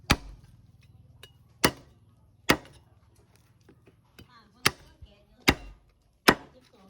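Heavy cleaver blows chopping through pork bones on a board, sharp single whacks spaced irregularly about a second apart, close and loud.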